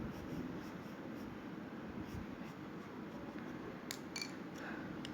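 A pencil drawing on paper makes quiet, soft scratching strokes at close range, continuous and even, with no talking.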